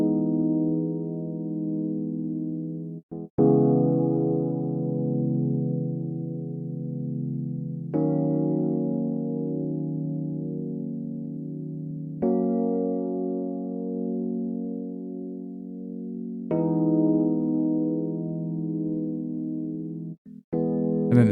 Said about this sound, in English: we have got a electric piano playing the chords.